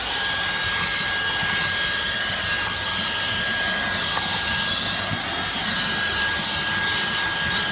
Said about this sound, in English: this is the main reason I got this vacuum for inside the car